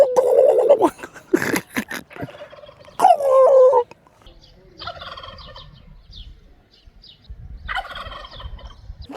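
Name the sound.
turkeys gobbling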